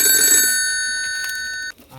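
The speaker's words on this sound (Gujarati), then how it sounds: "ફોન આવ્યો કોકનો" A telephone rings with a loud, bright electronic trill, one sustained ring close by that cuts off sharply, with no voices over it.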